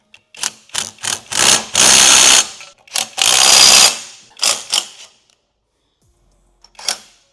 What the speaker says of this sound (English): I'm going to tighten down the fasteners.